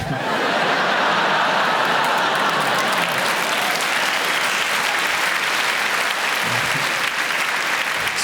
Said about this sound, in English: The younger people laughing and clapping